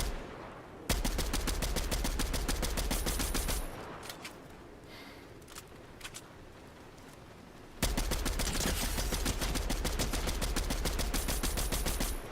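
Rapid automatic gunfire from a weapon in Fortnite comes in two long sustained bursts with a quieter gap of scattered shots between, loud and close with no talking.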